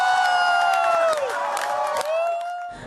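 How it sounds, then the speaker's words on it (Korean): A crowd in a hall erupts in cheers and whoops as Ukrainian presidential runoff exit poll results are announced showing Volodymyr Zelensky winning, with scattered clapping beneath sustained shouting over a brief stretch. "볼로디미르 젤렌스키 후보의 압도적인 승리가 예상되자 장내에서 환호성이 터져나옵니다."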